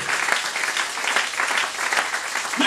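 A church congregation at a Song of Songs seminar breaks into steady, dense applause, loud and continuous throughout with no pauses.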